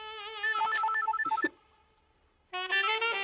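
An electronic phone ringtone trills loudly in a bright melodic pattern, stops for about a second of near silence, then rings again.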